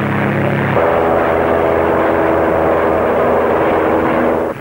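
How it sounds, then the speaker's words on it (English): Propeller monoplanes racing in an air race fill the air with a loud, steady droning engine roar that shifts pitch early on and then holds, with no speech. "Miss Jacqueline Cochrane in her Granville monoplane."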